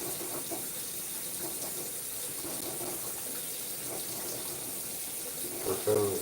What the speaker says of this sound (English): Then pour in the alcohol.